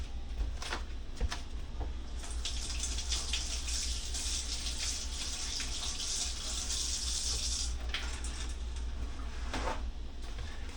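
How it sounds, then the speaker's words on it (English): A kitchen tap runs steadily as a spoon is rinsed under it, with continuous splashing into the sink and a few brief knocks. "Now I'm gonna wash this spoon off"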